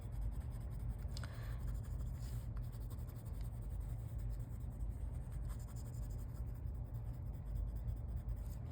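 Soft scratchy strokes of a marker across paper, quiet and close, with a few brief squeaks over a low steady background hum.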